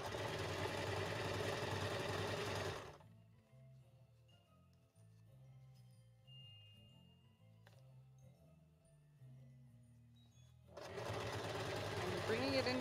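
A sewing machine stitches fabric, its low, steady motor hum running for several seconds in a quieter stretch between bursts of nearby talking.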